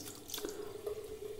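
Cold water runs steadily from a tap during a wet shave, a quiet, even splashing stream with light dripping, heard close and alone.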